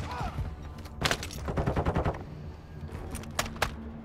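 Automatic gunfire in the video game Call of Duty: Modern Warfare II, with rapid bursts of shots, a dense volley in the middle and a couple of sharper single cracks near the end, moderately loud.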